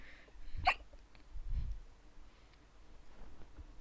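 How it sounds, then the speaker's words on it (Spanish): A person hiccups a couple of times, with sharp, brief bursts that are moderately close over a quiet background. "No, no me gusta estar con hipo."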